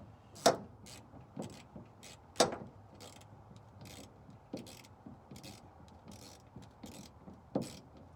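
A hand ratchet works the washer nuts off a 1968 Galaxie 500 tail light, giving a run of faint clicking pawl sounds and several sharper metallic knocks at irregular intervals, close-up in a quiet space.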